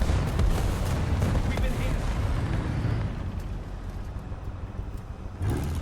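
Heavy rumbling booms and crackling blasts roll on continuously, a dense artillery barrage in War Thunder with a vehicle-like drone underneath.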